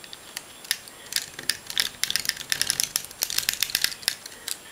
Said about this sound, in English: take your tape runner